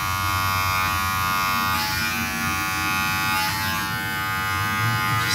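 Electric hair clippers buzz steadily and close by while tapering longer hairs during a haircut, with brief shifts in tone as the blades move through the hair.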